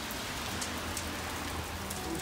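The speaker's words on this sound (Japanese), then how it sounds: "めちゃくちゃ雨降ってます。" Steady rain pours down in a dense, continuous hiss with faint low rumble beneath, no voices present.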